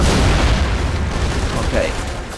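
A loud, sustained explosion rumbles through The Saboteur, deep booming energy filling the whole stretch and tailing off slightly near the end, with what sounds like voices mixed into the din.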